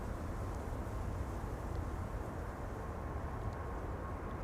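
An Embraer E2 jet departs Schiphol airport, a broad, steady roar of engine noise heard from a distance, faint and continuous with no voices.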